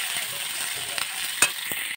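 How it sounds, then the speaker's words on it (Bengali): Potatoes frying in a pan with onion paste, a steady close hiss of sizzling oil running throughout with a few faint stirring clicks and one sharper clink. "এই যে এইখানে আমি আলুগুলো ভাজতে দিয়ে দিয়েছি।"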